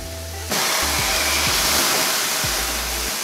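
Bread sizzles loudly in hot oil in a pan while being fried for Peruvian ají de gallina, making a steady broadband hiss that starts abruptly and carries on alone without talk.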